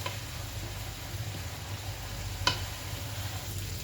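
Finely chopped onions sizzling in a pan, a steady soft hiss with faint occasional stirring and one brief sharper tap midway.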